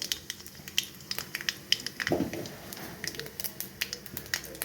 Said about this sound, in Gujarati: તેલ આપણું ગરમ થઈ ગયું છે। હવે એમાં આપણે રાઈ નાખશું